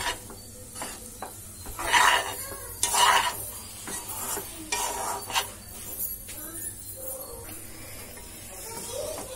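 Tempering spices sizzle in a hot pan in a home kitchen while a utensil stirs and scrapes against the metal, with a few sharper clinks over a steady, close hiss.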